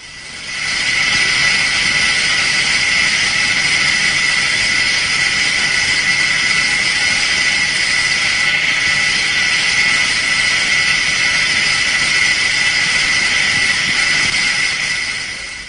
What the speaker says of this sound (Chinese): 首先，让我们来听一下轴承运行在良好无损伤状态下的声音。